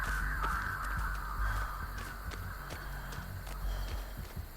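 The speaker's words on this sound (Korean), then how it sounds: "까마귀 울려주고 빠져주겠습니다." Crows cawing repeatedly in the horror game Dead by Daylight, harsh calls scattered over a steady low ambient drone with faint clip-clop-like thuds beneath.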